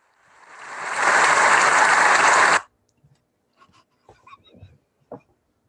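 Recorded applause track played into a virtual meeting, a loud smooth wash of crowd clapping that swells up, holds steady for a couple of seconds, then cuts off abruptly, followed by quiet scattered room noises and brief voices.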